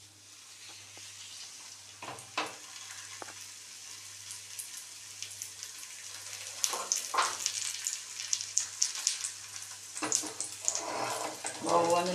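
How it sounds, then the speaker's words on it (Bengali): Aloo paratha frying in oil, a soft sizzle that grows louder and busier with bursts of crackle and spatter in the second half, close by, with faint background noise. "এগুলাকে এখন তেলের মধ্যে ভেজে নেবে।"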